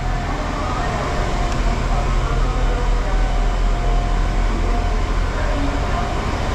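Train at a station in Warsaw, a loud continuous low rumble and roar of rolling stock filling the whole stretch, with muffled speech faintly underneath.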